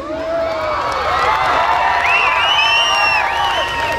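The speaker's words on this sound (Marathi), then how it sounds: "जरा जोरदार टाळ्या झाल्या पाहिजे छोट्या बच्चीसाठी" A festival crowd at Malhar Mahotsav 2015 cheers and whoops for a little girl being honored on stage, a steady, loud wash of voices and shouts with some clapping, sustained throughout.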